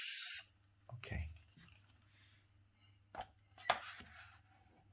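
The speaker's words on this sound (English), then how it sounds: "let's spray it softly, and I'll add another layer of darks." Spray paint can used for an art piece: a short loud hiss of spray at the start, then quiet handling, taps and a brief second burst, with a person talking softly.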